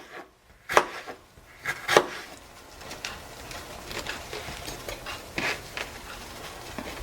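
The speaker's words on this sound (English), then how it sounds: "I'm going to take the bell pepper and just cut." A knife chops a bell pepper on a cutting board in a home kitchen, giving a handful of crisp, sharp cuts. Two are close together near the start, then scattered lighter taps follow, with no talking.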